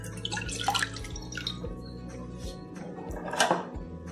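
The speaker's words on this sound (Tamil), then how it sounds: "ஒரு கடாய் எடுத்துக்கோங்க. அதில் ஃபஸ்ட்டு தண்ணி ஆட் பண்ணிக்கலாம்." Water poured into a kadai pan gives a steady, close trickle with light dripping and splashing throughout, and no voices.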